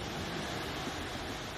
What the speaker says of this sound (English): apologies, obviously it's really windy